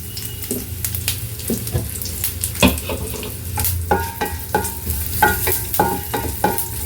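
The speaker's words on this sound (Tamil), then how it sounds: "வெறும் காஞ்ச மிளகா, வடகம், அவ்வளோதான். இதை நல்லா வறுத்துக்கலாம்." Dried red chillies, vadagam and asafoetida crackle and fry in a pan, close sizzling broken by frequent stirring clatters and scrapes, no voices.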